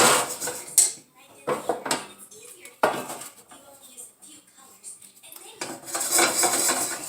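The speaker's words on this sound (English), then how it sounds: "I'm going to toast it on all sides and then add it to our soup." Dry fideo noodles are toasted in a dry pan, with close clattering and scraping of utensil against the pan in repeated bursts, some stirring rustle, and occasional speech in the background.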